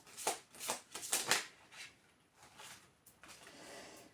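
Tarot cards drawn and flipped over during a card reading, a handful of soft quick flicks and shuffling rustles in the first half, then faint scattered handling sounds, quiet and close.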